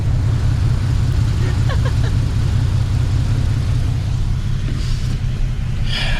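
A car driving along a road in daylight, a steady low engine and tire rumble filling the cabin throughout, with faint brief clicks and a voice or two barely rising above the drone.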